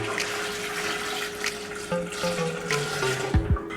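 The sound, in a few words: water filling a cooking pot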